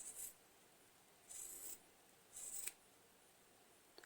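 Scissors trim the threads of a handmade tassel in three short, crisp snipping bursts. The cuts are quiet and close, with brief silences between them and no talking.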